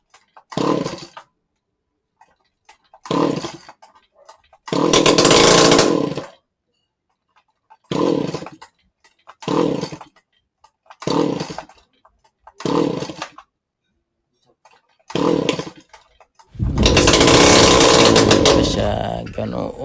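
A Stihl grass cutter with a fault that stops it running is pulled over repeatedly, each try giving a short sputtering burst of engine noise. One longer run catches near the middle and a loud sustained run follows at the end, with silence between attempts.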